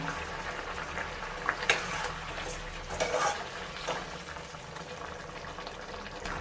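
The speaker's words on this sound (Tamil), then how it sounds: "இப்போ சிக்கனே தண்ணி விடுது, அதிலே வெந்துட்டு இருக்கட்டும்." Chicken pieces simmering in a pan in their own released water, giving a steady low bubbling and sizzling hiss with a few louder pops and crackles, close and continuous with no talking.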